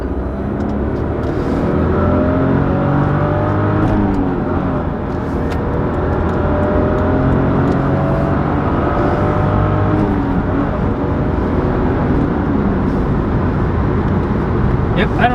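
A 2021 MK5 Toyota Supra driven hard by a professional driver, its engine note rising and falling with shifting harmonics through steady loud road and cabin noise; speech is faintly present.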